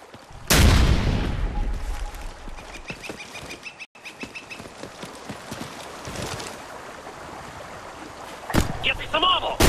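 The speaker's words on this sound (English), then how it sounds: "Throwing a frag!" Frag grenade thrown in Ghost Recon Future Soldier gameplay, a loud blast at the start followed by scattered gunfire and battle noise, with a second sharp burst near the end.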